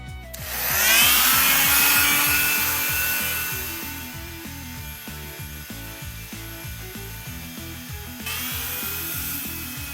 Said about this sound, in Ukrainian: Хотів би сказати, що шум мінімальний, але це залежить від фірми реноватора